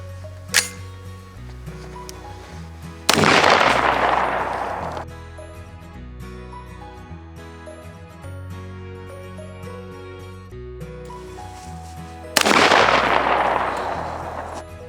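Two loud, close gunshots from a .450 SMC handgun firing Hornady Critical Defense ammunition, spaced about nine seconds apart, each cracking sharply and then ringing out in a long decaying echo.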